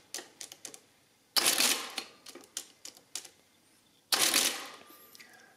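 Victor 16-83-54 mechanical adding machine adding and printing an entry: quick light key clicks, then two loud ratcheting crank-and-print bursts with tapping between, close and dry.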